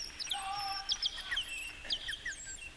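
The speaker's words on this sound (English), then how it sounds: "as the whistling and bird-like noises seem to increase, so does the white light" Bird-like whistles and chirps sweep up and down in quick overlapping calls during a 1974 concert in Buffalo, fairly clear against a soft hiss.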